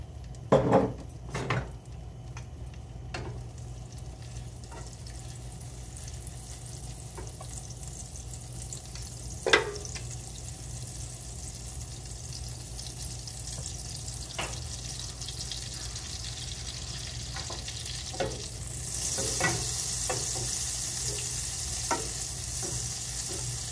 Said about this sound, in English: Now we're going to add 2 tablespoons butter and very little oil, because this way our butter not going to be burned.